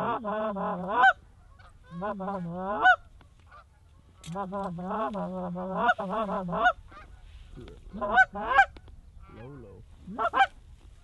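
Repeated nasal goose honks in bursts at a goose and duck hunt, loud and close, broken by pauses, with a hunter briefly speaking near the end.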